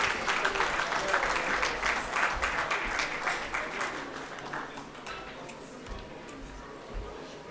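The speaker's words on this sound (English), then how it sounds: "Ladies and gentlemen, let's have a warm round of applause." An audience at a freight forwarders' convention closing session gives a round of applause, dense many-handed clapping that starts loud and gradually fades away, with faint murmurs underneath.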